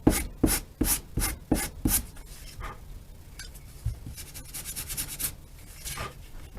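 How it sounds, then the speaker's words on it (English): A hand sanding block rasps a shallow taper into the end of a wooden piece for a Fractal mini plank wing, first in five or six quick, loud strokes, then softer, steadier rubbing close by. "your sanding block and sand a fine taper in to the end of your piece of wood"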